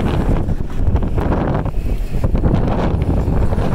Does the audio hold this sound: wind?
yes